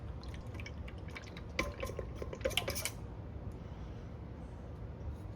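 A utensil stirs 320 grams of water in a bowl for sourdough pizza dough, giving soft clinks and splashy dripping in a short burst before it settles into quiet background.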